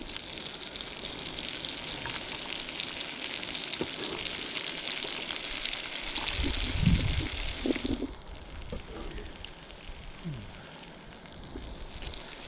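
Pepper and succotash vegetables fry in a pan on a camp stove. The sizzle is a steady hiss that is loud and close, with a few stirring knocks partway through before it settles back to a constant crackle.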